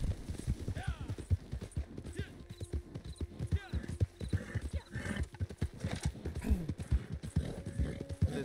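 Horse hooves clip-clop steadily in Red Dead Redemption 2 Online, a close, rhythmic run of hoof strikes with an occasional whinny, while someone talks over it.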